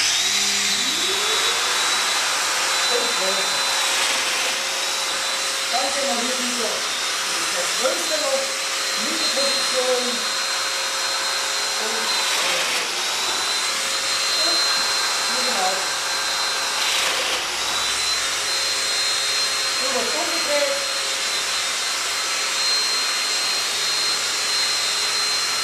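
A Festool Domino joiner cuts tenon mortises in repeated bursts, a high whine starting and stopping several times, with a voice talking over it between cuts.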